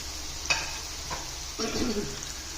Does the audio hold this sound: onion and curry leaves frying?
yes